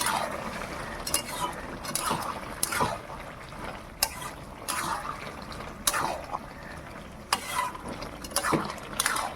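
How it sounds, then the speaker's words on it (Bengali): Bottle gourd and prawn curry with a little garam masala is stirred in a pan, a spoon scraping and clacking in repeated strokes over a soft simmering bubble, close and alone. "এবার নাড়িয়ে নেবো।"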